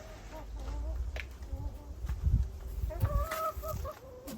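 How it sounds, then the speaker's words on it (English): Backyard chickens clucking near a hoop house garden in spring, a mix of short repeated clucks and higher calls over low wind rumble and handling noise, moderately close. "Yeah, chicken."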